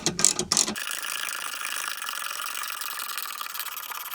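A car jack, part of a modern spare tire kit for Hyundai, Kia and Genesis EVs, is lowered at the roadside: a couple of sharp mechanical clicks open it, then a steady, fairly close rattling whir runs evenly to the end.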